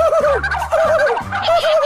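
A turkey gobbles repeatedly in quick, warbling bursts, loud and close, with no other sounds around it.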